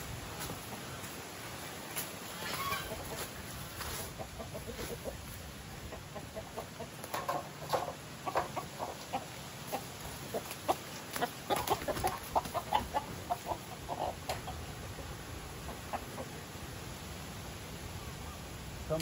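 Chickens clucking on a farm, scattered short clucks coming and going at moderate distance over a steady background hiss, with no talk.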